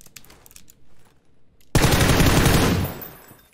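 Gunfire from an MK14 rifle in PUBG on the Miramar map. Faint distant shots come first, then a sudden loud rapid burst of automatic fire rings out up close for over a second before fading.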